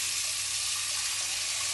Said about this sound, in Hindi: अब इसमें वापस से मैं साफ पानी भर लेती हूँ